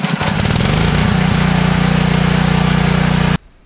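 A pressure washer engine fires up on high throttle and runs loud with a steady droning hum for about three seconds, then cuts off abruptly.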